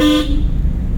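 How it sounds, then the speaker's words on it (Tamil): A short car horn honk sounds at the start, then cuts off, leaving a low engine rumble. "ஹார்ன் அடிச்சுக்கணும்."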